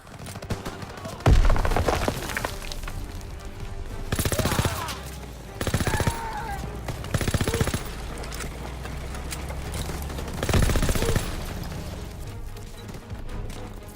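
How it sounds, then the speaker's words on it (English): Battlefield combat in Call of Duty WW2 on the beach assault, with machine-gun bursts and heavy explosive blasts from mortars and artillery erupting repeatedly over a constant din of distant gunfire. "Those nasty mortars as well. Mortars, artillery, heavy guns"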